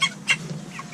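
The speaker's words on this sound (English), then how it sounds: "Go ahead and throw this chicken in here." Broiler chicken clucking while being handled on a farm: two short, close clucks followed by softer fluttering noises.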